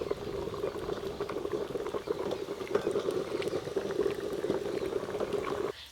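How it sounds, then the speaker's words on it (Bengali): Water boils vigorously in a pot set up for steaming, a steady, dense bubbling and rumbling at close range that continues for several seconds before easing off, with no voices. "ভাপার জন্য যে জল দিয়েছিলাম, জল একদম টকবকে হয়ে ফুটা শুরু হয়ে গেছে, বাইরে থেকে আওয়াজ পাওয়া যাচ্ছে।"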